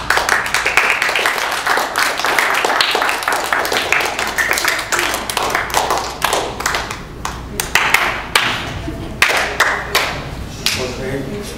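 An audience applauds a teacher after a talk on values and bullying, a loud sustained round of clapping from many hands that thins toward the end into scattered individual claps.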